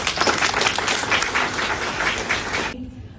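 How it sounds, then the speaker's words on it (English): An audience claps for the panelists at a community discussion on environmental justice, a dense and sustained round of applause that cuts off abruptly after nearly three seconds. "Can we give them a round of applause?"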